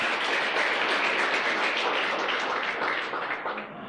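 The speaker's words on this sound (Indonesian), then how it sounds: "Kita beri tepuk tangan buat videonya." A seated audience gives a broad, loud wash of applause that holds steady and then begins to thin and fade toward the end.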